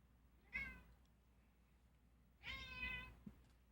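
A house cat meows twice, a short call followed after a pause by a longer, drawn-out meow, close but fairly soft in an otherwise quiet room.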